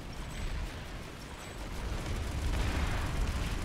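An artillery shell explodes in the video game Planetside 2, a low rumbling blast swelling and rolling on for a few seconds, fairly faint and with no one talking.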